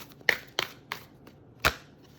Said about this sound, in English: it's going to be a long shuffle